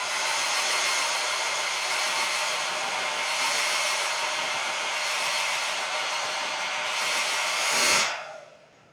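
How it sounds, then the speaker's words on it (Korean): A handheld hair dryer blows on hair in a steady, loud whooshing hiss that holds for several seconds, then is switched off and whirs down to near silence at the end. "이제 드라이기로 머리를 말려주실 건데요."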